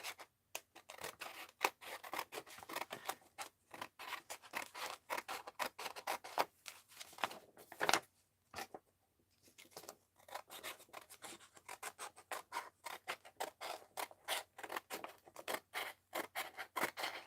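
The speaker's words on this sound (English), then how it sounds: "So let's trim Rosemary's." Scissors trim paper for an art journal up close, giving a long run of crisp snips and scraping cuts in an irregular rhythm with one brief pause midway.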